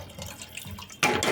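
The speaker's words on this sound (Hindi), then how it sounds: "अब बस इसको थोड़ा पानी और डाल देती हूँ" Water poured into a cooking pot, a faint trickle at first, then a louder, fuller splash of pouring for the last moments.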